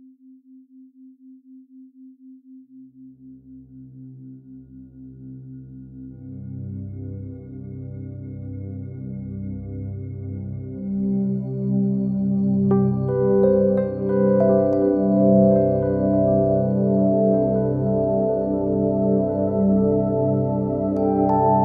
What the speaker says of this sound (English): Let's listen to the second musical example, combining the healing music with the brainwave entrainment tones in the deep theta range.